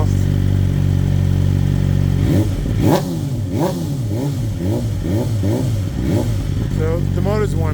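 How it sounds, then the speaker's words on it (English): BMW M1000XR motorcycle fitted with Akrapovic titanium headers, idling with a deep, steady engine rumble before a string of short throttle blips rises and falls, close by, with someone talking over it. "It sounds meaner than the stock exhaust."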